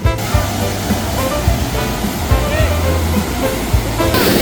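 Water pours steadily down St. Anthony Falls in Indang, Cavite, a loud, continuous rushing roar close by with no voices over it.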